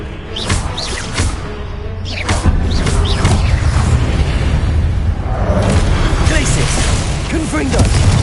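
Confringo blasting spell explosions in Hogwarts Legacy, loud booms and bursts mixed with spell-casting whooshes and combat clatter, with a voice shouting throughout.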